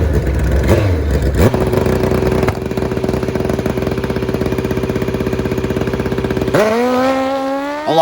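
Drag motorcycle, a GS fitted with a wheelie bar, idles loudly with a steady rapid throb, then revs sharply upward near the end in rising whining bursts, close and continuous.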